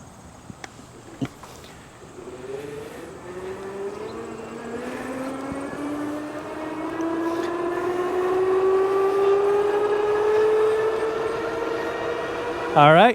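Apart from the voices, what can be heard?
5th Wheel Thunder 2 electric bike motor climbing uphill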